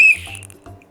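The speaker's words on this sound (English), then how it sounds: "I also brought my whistle." A single short, shrill whistle blast rings out at the start, then trails off, with soft faint rustling and thumps following in an otherwise quiet setting.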